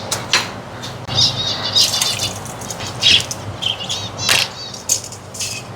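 Pet finches flutter around their home cage, giving bursts of wing flaps and bright chirps that come and go in quick, close flurries.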